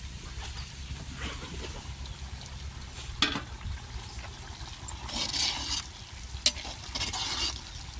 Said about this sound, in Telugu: మటన్ని మటన్ని ఈ రకంగా ఉడికించుకోవాలండి ముందు